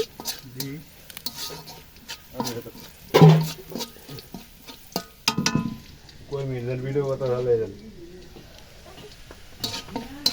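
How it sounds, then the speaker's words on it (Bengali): Onion, garlic and green chili fry in oil over a fire, sizzling close by while a spoon stirs and scrapes a pan in bursts, with someone talking over much of it. "আমি এখন বাঁচতেছি পেঁয়াজ রসুন কাঁচামরিচ তেল দিয়ে ভালোভাবে একদম কড়কড়া করে ভেজে নিচ্ছি"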